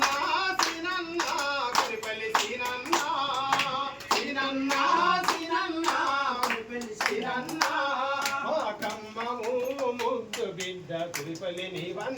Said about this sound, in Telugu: రెండు చేతుల్లో చప్పట్లు మాత్రమే కొట్టండి